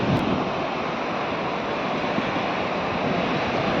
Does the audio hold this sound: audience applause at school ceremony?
no